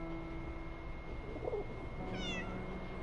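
A cat meows in the video game 11-11: Memories Retold, one short, high-pitched call near the end that stands out over a steady background hum of game ambience.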